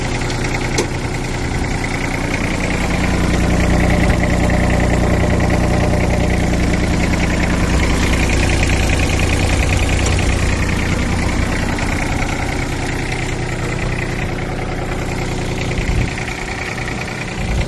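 An old imported farm tractor's engine runs steadily at close range, a loud continuous rough, knocking mechanical drone with strong low rumble, heard alone without talk.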